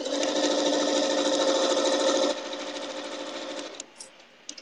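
A sewing machine stitches log cabin quilt pieces with a loud, steady mechanical whir that drops to a softer run partway through, then stops, leaving a few faint clicks.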